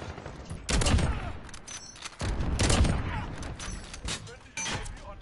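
Close, loud bursts of gunfire in Call of Duty Modern Warfare, three main blasts spaced about a second apart with echoing tails, one of them a sniper rifle, under light game noise.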